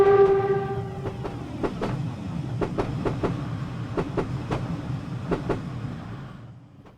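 Class 506 electric train in Train Sim World 3 running on the Glossop Line, steady rumbling rail noise with a rhythmic series of sharp clickety-clack wheel beats over rail joints, plus a brief tonal whine at the start, fading near the end.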